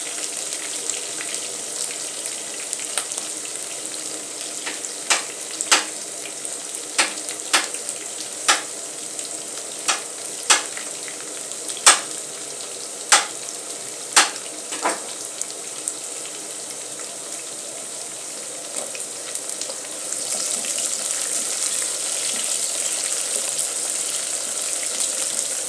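Garlic frying in a pan for spaghetti sauce gives a steady close sizzle with a series of sharp clicks and taps of a utensil against the pan. The hiss grows brighter and louder toward the end. No one speaks.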